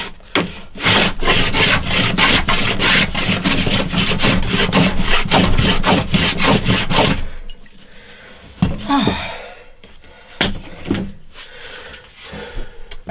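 Steady rhythmic rasping strokes of a hand plane shaving a hardwood guitar part to size, loud and close, about twenty passes in a row, then quieter scraping and handling noises.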